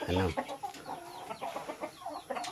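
A Rhode Island breeder rooster crows or clucks loudly up close, one strong call at the start followed by softer bird and yard sounds.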